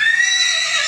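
Horse whinnying in a single sustained call, loud and close, with high tonal harmonics that slowly fall in pitch, heard alone with no talk.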